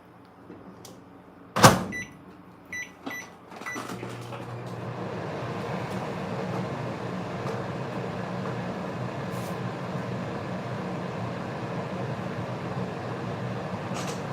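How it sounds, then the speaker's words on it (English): A microwave oven heating a cup of coffee: a sharp clunk and a few button beeps, then a steady, moderately loud low hum that runs without a break to the end. "I just got to microwave my coffee here."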